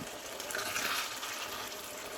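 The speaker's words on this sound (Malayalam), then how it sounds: "2 ടേബിൾ സ്പൂൺ വെള്ളം ഒഴിച്ചു കൊടുക്കാം." Two tablespoons of water poured into sizzling potato masala in a pan, a brief close hiss and splash rising over the steady frying noise.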